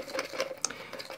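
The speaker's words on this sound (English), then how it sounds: "or you can just stir it up a little bit" Alginic acid powder being stirred into water in a small container, with soft, quick clinks and swishes repeating in a brief, quiet, close-up burst.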